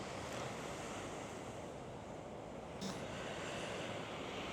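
Ocean surf rolls onto Nusa Dua beach in Bali, a steady broad wash of waves mixed with wind buffeting the microphone, faint and continuous with no voices.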